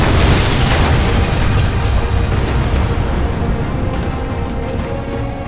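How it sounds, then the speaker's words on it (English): A building blown up by mined charges collapses in a huge, continuous roaring explosion of rumble and debris, loud and alone, slowly fading. "The building collapsed with a huge explosion"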